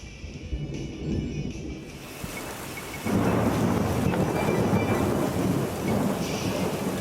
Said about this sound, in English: So, the thunderstorm redeem lasts an hour. And how much thunder you hear is up to RNG to decide.